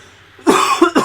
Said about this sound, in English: bit of coughing for you in the podcast.